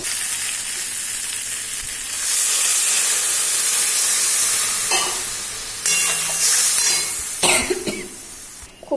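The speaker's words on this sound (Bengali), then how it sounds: "মশলাটা ভালোভাবে কষে নেবো ভেজে নেবো" Spice paste fries in a pan with a steady bright sizzle and hiss, swelling louder in bursts as it is stirred, with clattering scrapes toward the end and no talk.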